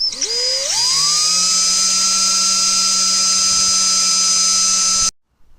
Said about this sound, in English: The best thing to do is set your drill to a fairly slow speed.